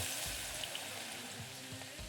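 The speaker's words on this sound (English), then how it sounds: "Anything sizzling on a pan," A steady, close hiss of food sizzling in a hot pan in the video game Venba, with faint low bumps underneath.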